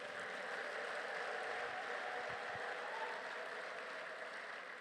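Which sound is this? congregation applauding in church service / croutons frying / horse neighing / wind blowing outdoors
congregation applauding in church service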